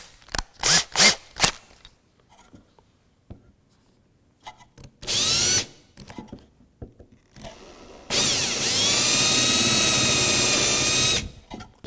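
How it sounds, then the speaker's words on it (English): A few short knocks and handling noises, then a power drill whines into a wooden jewelry box in two bursts, the second long and steady, close up, drilling holes to set magnets. "So let me drill"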